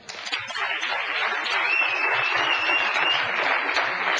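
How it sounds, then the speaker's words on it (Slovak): Studio audience at a Slovak talk show bursts into loud, sustained applause that swells and holds steady as a guest is welcomed, with no talk over it. "poprosím vás potlesk"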